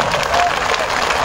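An audience at a political rally claps over a speaker's ongoing voice, a brief, busy patter of applause mixed with crowd noise.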